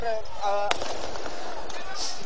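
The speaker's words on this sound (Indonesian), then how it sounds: "masih terdengar dentuman tembakan gas air mata dari aparat kepolisian dan Satpol PP" Police fire a tear gas launcher during a clash with residents at Kampung Pulo: one sharp, loud bang cuts through a noisy crowd background, with voices and commotion continuing around it.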